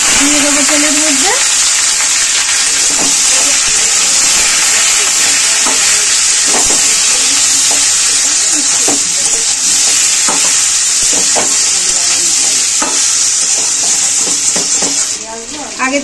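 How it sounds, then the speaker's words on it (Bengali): Boiled potatoes hit hot oil seasoned with cumin seeds in a karahi, a loud steady sizzle with repeated scraping stirs and utensil clinks, continuing close and dense throughout. "আগে থেকে সেদ্ধ করা আলুগুলো দিয়ে দেবো তেলের মধ্যে"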